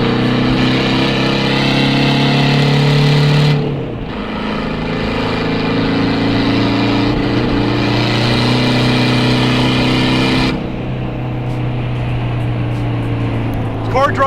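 A warmed-up car engine runs steadily with a loud, close, continuous hum that dips briefly twice before picking back up, while someone talks over it.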